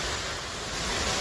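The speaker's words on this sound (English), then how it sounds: "There's a huge waterfall going all the way down this pool." Tunnel Falls on Eagle Creek roars as a steady broadband rush of falling water, loud and close, with wind buffeting the microphone and no talk.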